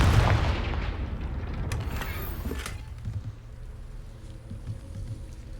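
A Confringo fire spell blast in Hogwarts Legacy, opening with a loud whooshing burst that rumbles and fades into a low roaring tail.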